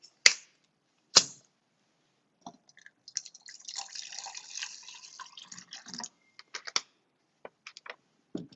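Plain water pours into a glass holding turmeric powder, a steady trickling splash of about three seconds after a few sharp clicks, ending with scattered drips. The sound is close and fairly quiet, with no one talking.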